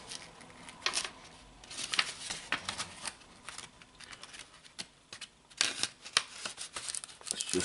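An envelope of Topps trading cards is opened, close, quiet paper rustling and crisp crinkling handling sounds in irregular bursts with faint background speech.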